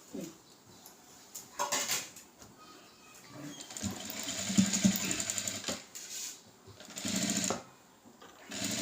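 A sewing machine stitches a designer blouse in bursts of rapid whirring, starting and stopping several times at close range, with small handling clicks between runs.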